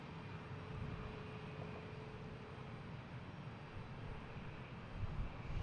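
A Frontier Airlines jet at Boston Logan International Airport gives a faint, distant, even rumble that stays level throughout and swells slightly at the very end, with no talking.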